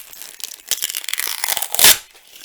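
A sticky paper manual is peeled off the back of a Philips AJ3123 radio alarm clock, making a close, crackling tear that builds to a loud rip near the end, with no talking.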